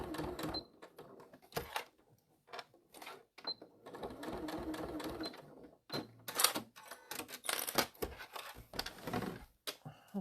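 A sewing machine whirs in bursts of rapid stitching, stopping and starting several times with quiet pauses between runs.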